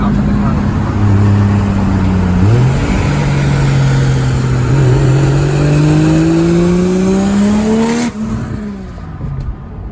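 A 1JZ-powered Toyota Supra Mk3 drives and revs, its engine note climbing through rising gear pulls with a clear shift, loud and close, before easing off near the end; a voice talks faintly underneath.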